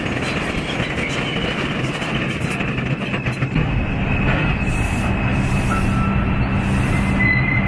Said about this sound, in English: That is a beautiful shot of just the 2 train going right past the other direction.